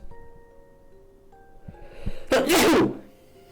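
A cartoonish character sneeze from the video game Professor Layton and the Lost Future, a single loud burst after a short build-up, heard over soft game music.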